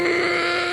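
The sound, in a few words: narrator imitating Gordon the engine yawning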